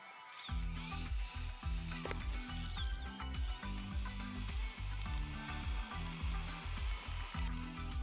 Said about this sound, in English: after that you need to drill 4 holes in the sink.